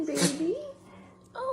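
A dog sneezes once, a short sharp burst close by, with a person talking around it.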